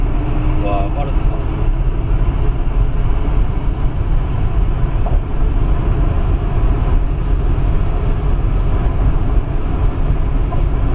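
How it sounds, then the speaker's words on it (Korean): Tesla Model X electric car accelerating through a tunnel, a loud, steady rumble of road and wind noise filling the cabin throughout, with people talking over it. "터널에서 잠깐 모델 X의 가속 감각을 느껴보겠습니다."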